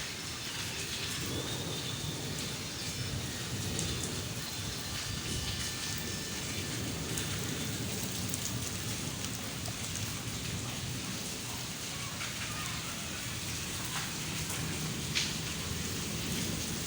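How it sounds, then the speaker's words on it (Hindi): Heavy rain pours steadily over a village, a dense continuous hiss of water on surfaces with low rumbles of thunder beneath, loud and unbroken throughout with no voices. "तो बारिश इतनी ज़्यादा आ गई।"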